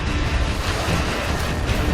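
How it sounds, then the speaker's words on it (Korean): Rough sea surf crashing steadily against rugged coastal rocks at the foot of a cliff, a dense continuous roar of water with some wind buffeting the microphone. "절벽 바로 밑에는 파도가 더 거칠고 물살도 만만치 않은데요."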